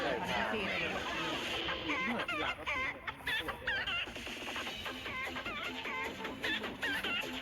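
Chickens on a farm cluck and chatter in an overlapping, busy chorus, with someone talking over the flock.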